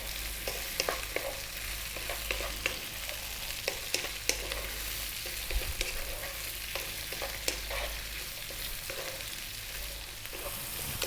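Chopped green beans are stir-fried with salt in a pan, making a steady sizzle with frequent scraping and tapping stir strokes throughout, close by and without talk.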